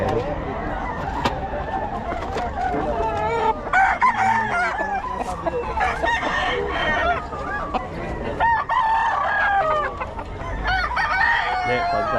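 Several gamefowl roosters crow repeatedly at a sale, with clucking mixed in and people talking throughout.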